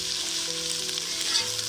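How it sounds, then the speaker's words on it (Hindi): Onions frying in hot oil, a continuous close hissing sizzle, steady and loud with no talk. "प्याज हम इसको फ्राई करेंगे।"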